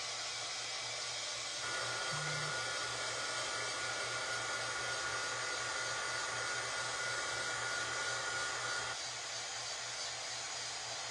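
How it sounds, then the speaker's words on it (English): A loud heat gun blows a steady, continuous hiss while drying a faux skyrocket, with a low hum beneath and a slight change in tone partway through. Nobody speaks. "Okay, now I'm going to take my heat gun."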